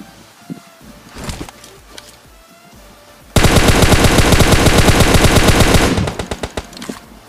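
Gunfire in a mobile battle royale game, a dense, loud sustained burst of rapid automatic shots after scattered lighter sounds, then trailing off into a few separate shots.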